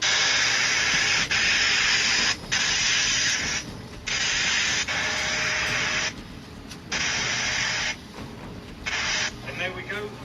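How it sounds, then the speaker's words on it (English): A vacuum cleaner sucks dust out of a PlayStation 5 console, a loud, steady broadband hiss that cuts out and resumes several times as the nozzle moves, with brief quieter gaps between bursts. "let's get the vacuum on the go"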